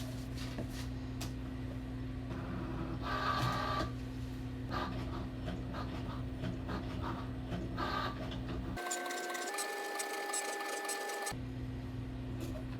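A Cricut Joy cutting machine draws with a pen, its motor whirring and buzzing steadily with short, shifting mechanical movements and a brief higher-pitched tonal stretch near the end, close and moderately quiet, no voices.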